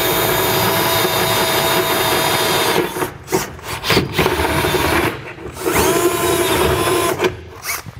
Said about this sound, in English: we can drill our pilot holes and then enlarge these out to fit our carriage bolts